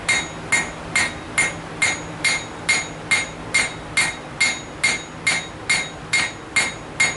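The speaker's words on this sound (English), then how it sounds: "We're just going to hammer it at an angle until we get a good little bevel going." Steady, evenly spaced hammer blows ring out on an anvil as hot metal is struck at an angle to form a bevel in a blacksmithing forge, about fourteen sharp metallic strikes close up, with no talk.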